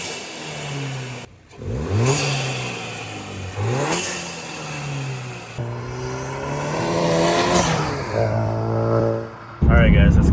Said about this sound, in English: let's get some intake noise on here